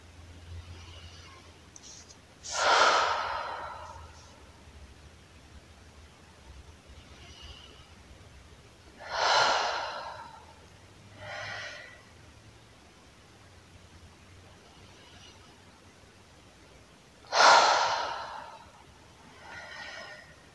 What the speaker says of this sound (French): on va commencer par prendre 3 grandes inspirations